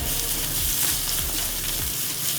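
Grated carrot frying in a pan with other vegetables for vegetable idly, a steady close sizzle with a few soft stirring scrapes throughout and no talking.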